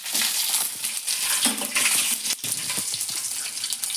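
Cumin seeds and curry leaves splutter in hot oil while avalakki susla is cooked, a close burst of crackling pops and sizzle with sharp snaps scattered throughout.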